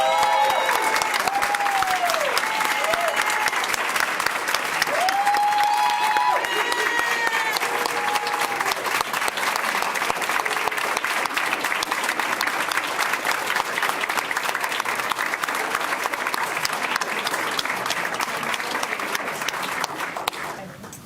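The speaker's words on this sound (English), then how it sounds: "Let's give them all a round of applause." An audience at a school board meeting honoring educators gives a sustained round of applause, dense and loud throughout, with brief voices and cheers rising over the clapping near the start.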